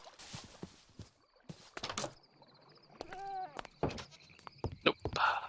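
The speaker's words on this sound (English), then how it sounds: "I hear too many goats." Several goat bleats from a video game, wavering and nasal, scattered among thunks, knocks and other game effects, moderately close with quiet gaps between.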